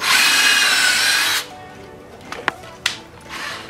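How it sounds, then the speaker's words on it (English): A power drill whines loudly into a wooden board for over a second, then stops, followed by a few sharp knocks and faint handling sounds. "You want to drill about halfway through the board length."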